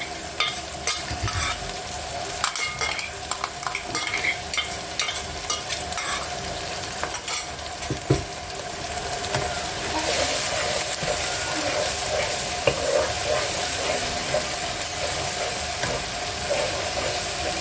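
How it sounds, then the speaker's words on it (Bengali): Tomato paste frying in a pan while being stirred for chicken do pyaza, a steady close sizzle with repeated scraping and clinking of the spoon against the pan, continuing without any talk. "টমেটোটা একটু নাড়াচাড়া করে"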